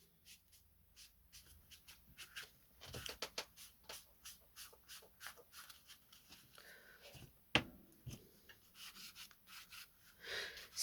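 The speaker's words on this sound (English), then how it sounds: "I'm just going to give it a little smudge. Okay, there we go. And I'm using a makeup sponge." Makeup sponge smudging pastel over an old book page, a faint, close, irregular patter of soft rubbing and dabbing strokes.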